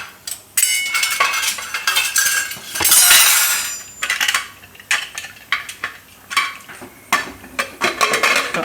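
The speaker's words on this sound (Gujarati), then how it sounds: "હવે આપણે કુકરનું ઢાંકણું બંધ કરી દઈશું." Metal clinks and clatters as a pressure cooker lid is fitted and closed over a potato dish, a burst of scraping clanks followed by a run of short separate knocks, near and fairly loud.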